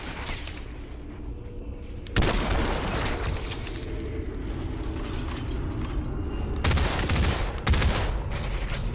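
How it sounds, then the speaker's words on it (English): Gunfire in the VR battle royale Population: ONE, a sustained crackle of shots and booms starting abruptly after a quieter opening, with louder bursts near the end, steady and fairly close throughout. "Oh, somebody's shooting at me."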